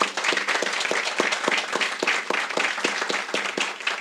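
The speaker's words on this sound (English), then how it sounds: "let's just give them a quick applause" An audience at a centennial closing ceremony gives a brief round of applause, a steady patter of many hands clapping at moderate distance with no talk over it.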